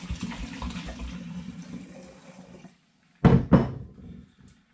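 Grape and peach wine pours into a demijohn, a steady, fairly quiet gurgling stream for almost three seconds, then a pause and two short loud splashing glugs that fade out.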